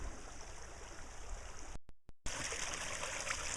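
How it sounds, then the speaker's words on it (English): Water rushing through a weir on a mountain bisse irrigation channel, a steady close stream hiss broken by a brief dropout partway through, with no voices. "It's sending a lot of water now, and it was blocked."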